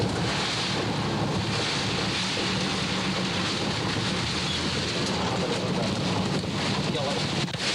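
Powerful hurricane wind from Hurricane Iwa in November 1982 roars as a dense, unbroken rush on the microphone, loud and steady from start to finish, with scattered flying debris on a road blocked by boulders.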